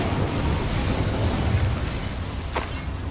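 A burst of flame from the Incendio fire spell cast in the Hogwarts Legacy video game, a steady loud roaring whoosh lasting throughout with a brief bright crackle near the end.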